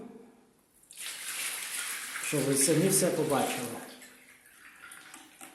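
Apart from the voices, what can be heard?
bucket of water poured into shower tray drain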